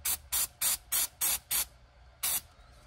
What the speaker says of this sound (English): a little bit of contact cleaner on this guy right here